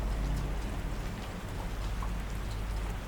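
Steady rain falls as an even, dense hiss with faint patters throughout, at a soft, constant level and with no voices.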